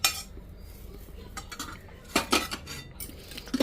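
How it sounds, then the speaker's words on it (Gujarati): A metal spoon scrapes and clinks against a pan while stirring caramelized kheer, with irregular sharp taps and short scraping bursts, close and moderately loud, and no talking. "તમે આ ચમચી બી આમ મિક્સ કરી નાખો."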